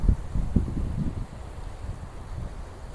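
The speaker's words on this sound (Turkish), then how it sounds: "Çok şu anda rüzgarlı" Steady wind buffeting a microphone, low rumbling gusts that are stronger at first and then settle into a constant windy roar.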